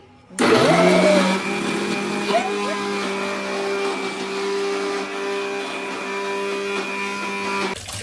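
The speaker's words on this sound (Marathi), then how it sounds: "गाईस आमचा मिक्सर बघू शकता. थायलंडची आणली." A mixer grinder brought from Thailand starts with a sharp jolt and then runs steadily with a loud, even motor whine for several seconds before cutting off.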